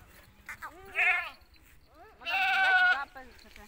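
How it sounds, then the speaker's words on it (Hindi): Goats, a nanny and a billy, bleat in two wavering calls close by, a short one followed by a longer, louder one. "और ये बकरी और ये बकरा"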